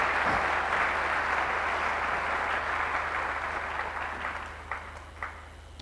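A church congregation claps together in sustained, dense applause that fills the space, loud and steady before gradually thinning, with a few last separate claps near the end.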